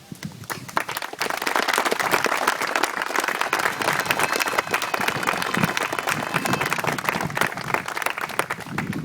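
An audience at an outdoor bench dedication breaks into a sustained round of applause, dense and loud clapping that holds steady throughout.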